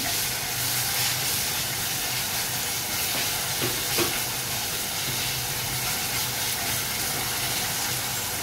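Chopped onion sizzling and hissing steadily in a hot pan with salt added, a continuous close frying hiss with a couple of faint scrapes of stirring, no talking.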